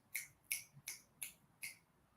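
Five crisp finger snaps in a steady, evenly spaced rhythm, sharp and close but fairly quiet, with nothing else around them.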